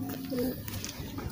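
Soft, low cooing from a nearby pigeon, a couple of brief throaty calls against faint background noise.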